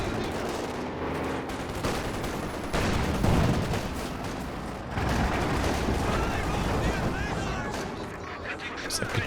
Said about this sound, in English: Is that Katyusha? Only one kill with his first barrage.